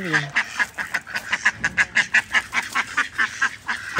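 Ducks quack in a rapid, regular run of loud nasal calls, roughly three or four per second, close by with faint background noise.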